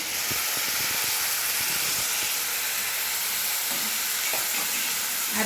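Onions frying in a pan with ginger, garlic and green chilli paste for a mutton curry, giving a steady loud sizzle and hiss with occasional stirring scrapes throughout.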